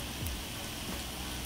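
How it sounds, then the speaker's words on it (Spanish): Sliced potatoes sizzle in hot oil with dried oregano and garlic in a pan, a brief close steady crackle and hiss with no talking. "Y aquí me voy a quedar sofreyendo estas deliciosas papas."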